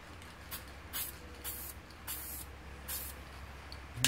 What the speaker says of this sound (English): let's do a little test spray on the cardboard first.